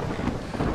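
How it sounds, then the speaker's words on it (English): Stormy weather with thunder heard during a seaside storm: a steady, dense low rumble with wind and rain noise, continuous and fairly loud throughout, no voices. "Well, it's just the storm, John."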